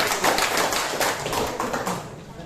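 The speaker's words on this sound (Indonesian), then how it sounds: "tepuk tangan untuk kita semua" Residents at a community meeting about kampung housing clap together in a short, lively burst of close applause, with a few voices mixed in.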